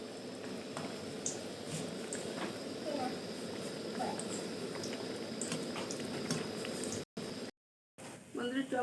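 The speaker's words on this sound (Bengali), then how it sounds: "এবার উল্টি পাল্টে আমি সুন্দর করে ভেজে নেব।" Banana flower chops sizzle in hot frying oil as a steady, close bubbling crackle that continues throughout, with someone speaking in the middle and a short silent break near the end.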